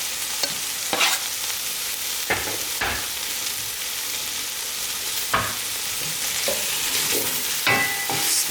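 Garlic sizzling in a pan, a continuous bright hiss of frying broken by several scraping clatters as a spoon stirs it, fairly close with no voices.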